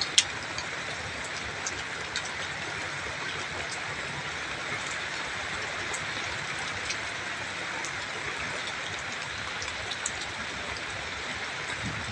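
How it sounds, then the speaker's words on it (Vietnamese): Heavy late-afternoon rain by a riverbank where the Tien River meets the Cho Gao canal in the Mekong Delta, a dense, even hiss of drops with scattered nearer splats, steady throughout and free of voices. "Vào buổi chiều hôm nay tầm 4-5 giờ trời mưa rất là lớn luôn."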